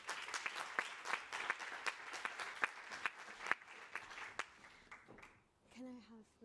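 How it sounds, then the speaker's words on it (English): Audience applause at a United Nations climate change convention event greets a youth ambassador, steady clapping running about five seconds before fading, after which a voice speaks briefly. "So please give her a big round of applause to her."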